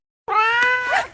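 A cat gives a single loud, drawn-out meow, clear and close, starting after a brief silence and fading at the end.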